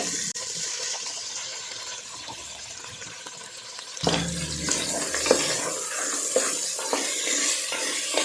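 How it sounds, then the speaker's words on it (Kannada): Mutton frying in a pan as ground tomato masala is added. The first part is a broad, steady hiss, and then a thud is followed by crackling sizzle with scattered pops. No one speaks. "ಇಲ್ಲಿ ಮಟನ್ ಚೆನ್ನಾಗಿ ಫ್ರೈ ಆಗಿದೆ ಈಗ ರುಬ್ಬಿರೋಂಥ ಟೊಮೊಟೊ ಮಸಾಲ ಹಾಕ್ತಾಯಿದ್ದೀನಿ"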